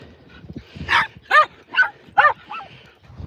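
Two brother dogs bark and whimper in short bursts, four or five loud yelps and whines spaced about half a second apart, close by with little else around them.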